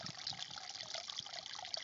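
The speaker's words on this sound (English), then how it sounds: "the water keeps flowing" Shallow water flowing steadily in a small Appalachian Trail creek, a continuous close bubbling and trickling wash with no voices over it.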